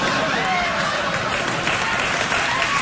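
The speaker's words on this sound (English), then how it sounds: "I'm glad somebody's clapping." A studio audience claps in a dense, even roar of applause that holds steady and loud for nearly three seconds, with crowd noise mixed in.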